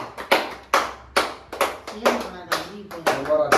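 Hands clapping at a home birthday celebration, a series of sharp broadband claps in uneven bursts mixed with voices talking and singing close by.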